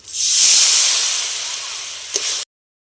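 Water is poured onto fried spices in a pan for Bengali pomfret curry. A loud, close steam hiss bursts up, then slowly fades, with a brief clink near the end.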